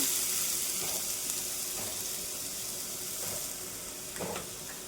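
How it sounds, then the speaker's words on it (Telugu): Ridge gourd pieces fry in hot oil in a pan, a continuous close sizzle with faint stirring scrapes rising briefly over the steady crackle. "ఇప్పుడు కొంచెం ఆయిల్ అయితే వేసుకుందాం. మనం కట్ చేసుకున్న బీరకాయ ముక్కలు వేసేసుకుందామండి."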